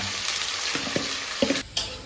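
Steady frying sizzle of cabbage in a wok, with a few sharp clanks and scrapes of a utensil stirring the food.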